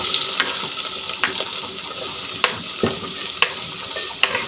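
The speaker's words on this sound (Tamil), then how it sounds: "வெங்காயம் போட்டுக்கலாம்." Onions frying in a pan with ginger, a steady close sizzle broken by several sharp clinks and scrapes of a spoon stirring against the metal, no talking.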